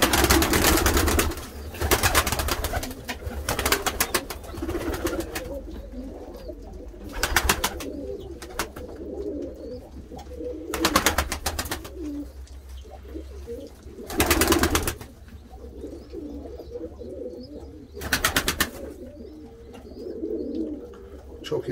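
Pigeons, including a very old bird, coo softly in low, repeated phrases, broken up by several loud bursts of fluttering or rustling noise.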